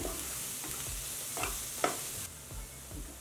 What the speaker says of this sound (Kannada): ಮೀಡಿಯಂ ಫ್ಲೇಮ್ ಇಟ್ಕೊಂಡೆ ಸ್ವಲ್ಪ ಹುರ್ಕೊಳ್ಳೋಣ ಹಸಿ ಹಸಿ ವಾಸನೆ ಹೋಗಬೇಕು ಹಸಿಮೆಣಸಿನ್ಕಾಯಿ ಪೇಸ್ಟು ಚೆನ್ನಾಗಿ ಫ್ರೈ ಆಗಿದೆ